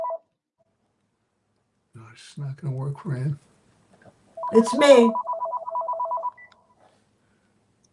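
A landline telephone rings in a steady electronic trill of repeated pulses, following a short burst of close talking, with a brief tone at the very start.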